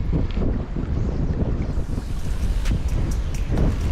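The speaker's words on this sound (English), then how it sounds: "it wouldn't be so bad if the wind wasn't blowing" Cold wind blows hard along the coast on a trout-fishing outing. It makes a steady, loud roar and buffets the microphone, with faint waves underneath and no voices.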